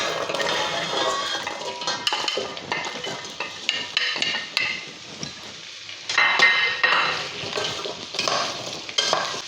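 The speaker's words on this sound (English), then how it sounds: "I'm just going to stir a little bit just to make sure that the carrots are covered with olive oil" Carrots are stirred in olive oil in a pot, a spoon scraping and clinking against the metal over a soft sizzle, close and continuous with no talking.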